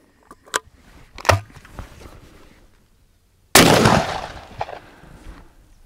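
A 12 gauge shotgun fires an Ely 36 gram number four shot load at a target of ballistic safety glasses five meters away. Quiet handling clicks come first, then one sudden, very loud blast whose echo slowly decays.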